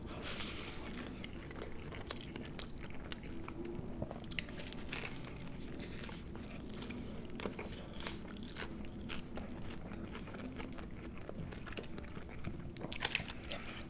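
Biting and chewing a crunchy Taco Bell Crunchwrap, continuous close crackly crunching and mouth noises throughout with a few sharper crunches near the end, no talking.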